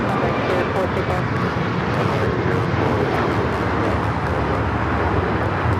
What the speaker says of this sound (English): This is Alaska Airlines 1398 taking off to Mazatlan on the MAX 9.